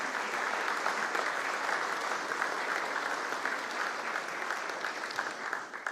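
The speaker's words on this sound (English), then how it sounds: "Would you give all of those people a round of applause?" Steady, dense applause from an audience at a chamber of commerce annual meeting breakfast, sustained and loud throughout, many hands clapping together without a break.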